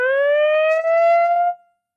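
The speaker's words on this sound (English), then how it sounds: "you might hear the alarm signal going off here" An alarm siren sounds alone as a single loud, steady tone that rises slightly in pitch for about a second and a half, then cuts off abruptly.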